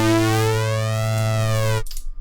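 A sustained synth tone from the Blue III software synthesizer, run through a flanger effect, holds steady with sweeping, combing overtones and then cuts off abruptly near the end.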